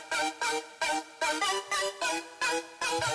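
Thick synth chords from a saved Logic Pro stock-plugin preset for a dubstep track play as eight short, evenly spaced stabs in a steady rhythm, clear and alone without any voice.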